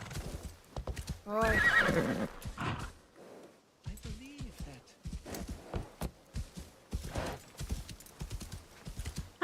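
Horse hooves clip-clop in a steady rhythm while riding through a city in Assassin's Creed Shadows, joined by a loud whinny, with a person briefly talking over the hoofbeats.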